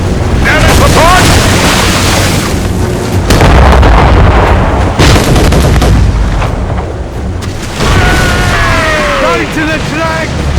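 Mortar fire in Assassin's Creed Rogue: heavy booms and rumbling blasts repeat across the scene, loud and close, with shouting voices and battle noise layered over them.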